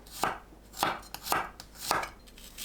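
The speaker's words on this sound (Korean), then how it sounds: "마늘을 편으로 썰어주세요." A knife slicing garlic cloves into thin pieces on a cutting board, four evenly spaced crisp chops close up with quieter taps between, no talking.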